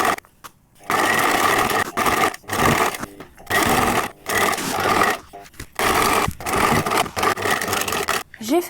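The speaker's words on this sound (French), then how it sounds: "Et on va coudre tout le long." Sewing machine stitching a sailor cap, bursts of fast, loud mechanical whirring broken by short pauses, running close up and repeated through the whole stretch.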